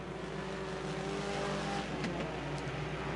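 Race cars of the Minis class, among them a lone Mopar in a field of Mustangs and VWs, accelerate together on a speedway at a green-flag restart, a steady close engine roar throughout with no talk.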